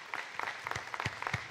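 Applause from a church congregation welcoming a couple, a short burst of scattered hand claps with sharp individual slaps, moderately close and lively.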